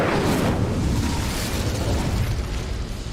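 The Incendio fire spell cast in Hogwarts Legacy erupts as a loud, close burst of flame that roars up at once and then rushes on in a broad, steady blaze that slowly thins.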